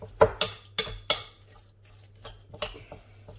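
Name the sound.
mixing vegetable pakora batter with gram flour in a bowl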